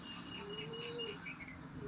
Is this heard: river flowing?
no